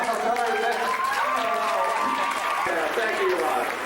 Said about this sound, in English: Don't hold your applause.